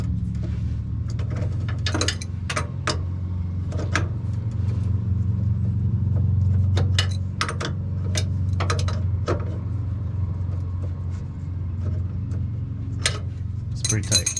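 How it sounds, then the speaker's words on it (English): A crescent wrench clicks and scrapes in short metallic taps while tightening a fuel filter fitting on a 1999–2006 GMC Sierra 1500, close by over a steady low hum. "I'm going to use a crescent wrench to torque it down."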